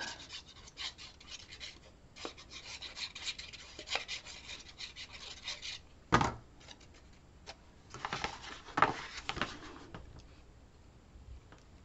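Paper being burnished onto a card base gives soft, intermittent rubbing and scraping strokes, close and fairly quiet, with a few sharper rasps in quiet surroundings.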